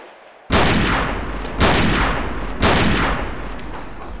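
Three loud, booming gunshots from a World War II gun in a VR shooting game, spaced about a second apart, each a sharp blast trailing into a long reverberant decay, with no talk.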